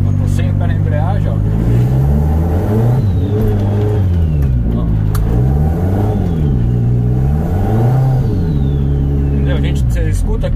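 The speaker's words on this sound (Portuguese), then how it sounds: "Você escuta que o giro sobe, né? E o carro não anda." A car engine revs up and down repeatedly with a slipping clutch, the pitch rising and falling in long sweeps while the car doesn't move, loud and close, with someone talking over it; a Ford Escort 1.9 turbo track car.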